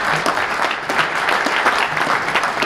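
An audience claps for a retired football coach at a quarterback club gathering, a dense, sustained round of applause filling the room with no speech over it.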